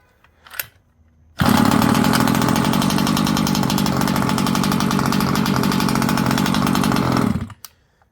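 A small two-stroke engine on a 1/5 scale Rovan Baja 5b gas RC car fires up after a brief pull and settles into a loud, steady buzzing idle for several seconds before cutting off.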